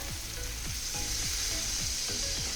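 Water poured into a pan of frying spice paste for a fish curry sets off a steady, close hiss, with repeated soft stirring strokes through the bubbling gravy.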